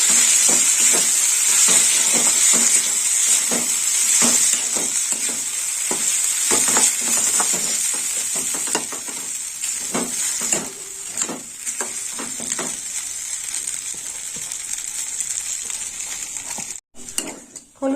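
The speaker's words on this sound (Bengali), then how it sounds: "একটু নেড়ে চেড়ে দেবো" Raw turmeric curry with fish sizzles and fries steadily in a hot pan while a utensil stirs it, scraping and clinking against the metal in an irregular rhythm, loud and close with no talking.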